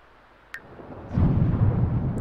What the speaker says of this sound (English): The thunderstorm.